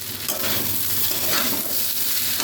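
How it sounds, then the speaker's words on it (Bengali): Ingredients sauté in a hot pan for Bengali sweet Basanti pulao, giving a steady, close sizzle with faint stirring scrapes throughout and no voices. "এটাকে আমি একটু কষিয়ে নেব"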